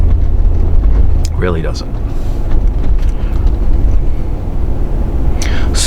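Steady low road rumble and wind noise inside a 2003 Mercedes-Benz ML350 4MATIC W163 cruising on the highway, loud and constant, with someone talking briefly over it.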